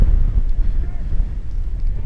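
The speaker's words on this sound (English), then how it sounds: "We just got a gust of wind coming straight across the field, right into our faces in our camera position" A gust of wind blows straight across an open soccer field into the microphone, producing a loud, rumbling buffet that surges and dips unevenly, with a voice faintly present underneath.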